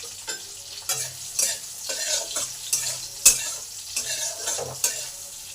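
Whole spices, broken dried chillies and bay leaves sizzle and crackle in hot oil in a pan, with a spoon stirring and scraping in repeated strokes; close and steady, no voices.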